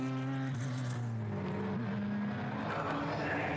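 A race car at Rockingham during a 2010 Radical UK Cup race sweeps past on track, its engine a steady loud drone with a falling pitch as it goes by.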